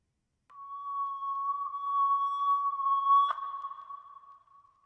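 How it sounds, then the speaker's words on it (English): A pure electronic sine-wave tone rises in as a reversed one-shot riser for a dark ambient beat, a steady sustained pitch that swells, clicks near the end, and fades, alone without other sounds. "It's a reverse sine wave."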